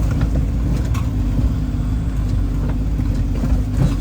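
A car drives off a river ferry onto the bank on a crossing to Yakutsk, its engine a steady, loud low drone under rumbling road and wind noise, with no voices.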